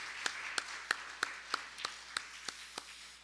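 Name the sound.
congregation applause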